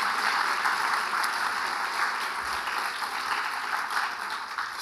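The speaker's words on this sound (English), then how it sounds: "Let's give her another round of applause." Sustained audience applause fills a hall after an inaugural academic address, a dense even wash of clapping that holds steady for several seconds with no voices on top.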